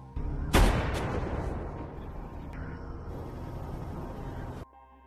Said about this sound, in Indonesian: Di luar dugaan, beberapa sniper mereka ada yang menembakinya juga.